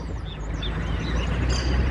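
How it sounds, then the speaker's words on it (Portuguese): Small birds chirp in a town street in Santa Adélia, São Paulo, with light, scattered calls over a steady low rumble of nearby traffic. "som dos passarinhos, tudo de bom."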